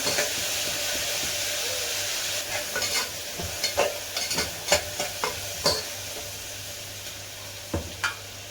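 Coriander, curry leaves and onion fry together in hot oil for a chicken-feet dish, giving a steady close sizzle and hiss broken by occasional sharp pops and spatula scrapes, with no one speaking.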